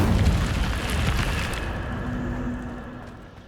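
The Incendio fire spell is cast in Hogwarts Legacy, with a loud whooshing burst of flame that roars at once and then fades away over a few seconds, alone and close.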